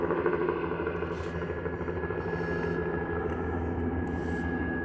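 Helicopter lifting off in town at night, heard as a steady low droning rumble with a faint whine, moderately distant and fairly quiet, no talking.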